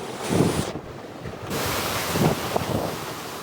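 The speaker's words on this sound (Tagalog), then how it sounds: "Grabe po ang hangin dito." Strong typhoon wind in Nueva Ecija, a steady roaring rush with heavy buffeting against the microphone and gusts swelling and easing over several seconds.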